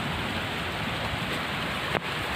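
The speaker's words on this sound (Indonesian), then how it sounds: "Hujan." Steady, hissing rainfall pouring down continuously over rice paddy fields during the rainy season, heard from under a shelter, with a brief sharp knock near the end.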